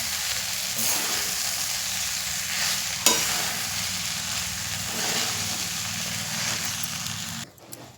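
Flattened rice is stirred into fried onions in a pan for kande pohe, a continuous close hiss of frying with a faint scrape of the spatula, ending abruptly; no one speaks.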